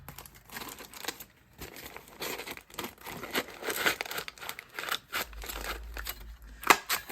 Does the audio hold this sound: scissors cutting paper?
yes